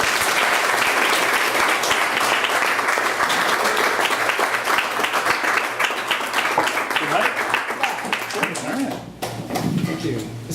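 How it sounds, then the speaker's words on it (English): An audience applauds writer Ryan Bartelmay at a Tuesday Funk reading, a dense, steady wash of many hands clapping close by for about nine seconds, with a voice briefly heard through it before the clapping thins. "you can clap right now for Ryan Bartelmay"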